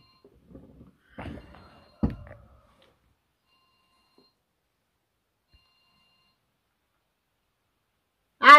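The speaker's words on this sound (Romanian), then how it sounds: "Ia, sună telefonul." A telephone in a home begins ringing near the end after a few faint knocks and thumps, its electronic warbling tone suddenly loud and close following long quiet.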